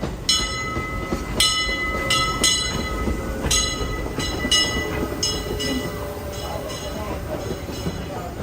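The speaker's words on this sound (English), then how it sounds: "Train's coming." A Disneyland train rumbles past nearby with a steady roar and repeated rhythmic clicks and squeals from the wheels and cars, continuing throughout.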